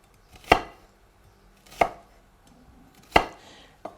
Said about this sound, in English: I cut through the onions in the center with the root intact, and then I make some incisions, some vertical incisions